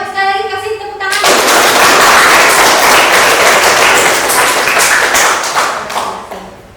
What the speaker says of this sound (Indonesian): Ayo sekali lagi kasih tepuk tangan.